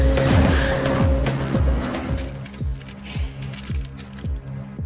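A getaway car in a film tears off with squealing tires, its engine revving hard through a rapid run of rising and falling surges that fade slightly toward the end.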